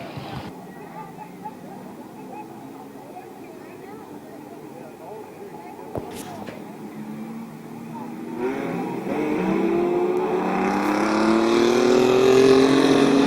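Mini trucks race at Midvale Speedway on a restart, engines building from a distant hum to a loud, rising roar as the field accelerates past, with an announcer talking over it.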